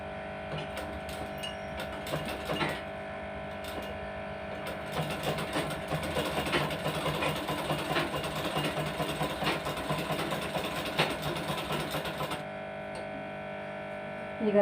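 A sewing machine stitches fabric in a tailoring session, its motor whirring steadily with rapid mechanical needle clatter for most of the stretch before stopping near the end, close and prominent.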